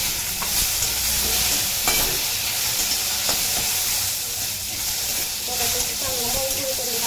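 Onion and tomato frying together in a pan, a loud steady sizzle and hiss with occasional stirring scrapes, close and continuous.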